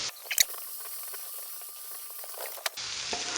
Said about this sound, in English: So into the same frying pan that we've been cooking the meatballs, we're going to put the onion